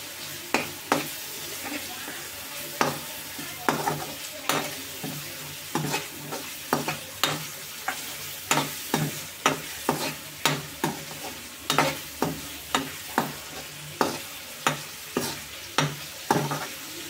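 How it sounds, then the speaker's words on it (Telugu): Ginger-garlic paste stirred into a frying onion-paste curry base for raw banana fritter pulusu, a ladle scraping the pan in steady, rhythmic strokes about once a second over a low sizzle, close and clear with no talking. "ఒక హాఫ్ స్పూన్ అల్లం వెల్లుల్లి పేస్ట్ వేసుకుని మొత్తం కలుపుకుందాం."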